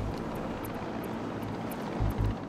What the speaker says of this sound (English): Oh, is it a helicopter that's shooting me?